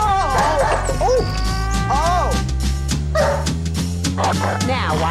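A dog barks and yips repeatedly and loudly at close range, with whimpering pitch slides, over a steady musical backing in a cartoon scene.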